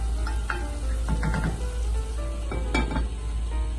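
Mushrooms sizzle in a pan with about a quarter cup of wine, a steady close frying hiss with a few clinks and stirring scrapes from utensils against the pan.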